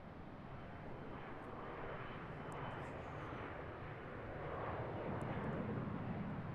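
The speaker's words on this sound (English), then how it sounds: "Little E175 departure there." An Embraer E175 jet departing Charlotte International airport, a broad, steady roar that rises slightly in loudness as it powers away, heard from a distance with no talk over it.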